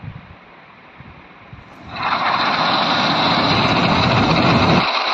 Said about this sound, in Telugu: మిషన్ అయితే స్టార్ట్ అయింది